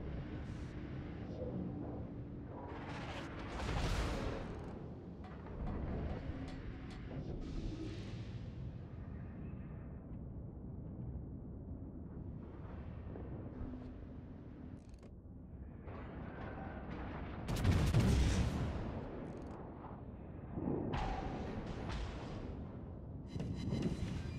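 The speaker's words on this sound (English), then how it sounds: "All stations, concentrate fire on the target." Warship guns fire in World of Warships, with several deep booming salvos spaced apart over a low rumble, the heaviest blast coming near the end.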